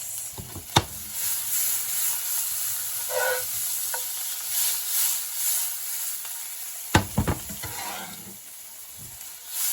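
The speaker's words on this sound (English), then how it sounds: "they're just sizzling into the herbs and spices here" A continuous hissing sizzle of mushrooms frying in garlic butter with herbs and spices in a pan, with a few clanks and scrapes of stirring near the start and again toward the end.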